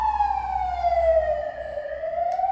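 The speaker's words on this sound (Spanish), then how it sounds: "uy, ambulancia" An ambulance siren wails steadily, its pitch gliding down and then back up as it passes through the street, loud and continuous over a low hum of traffic.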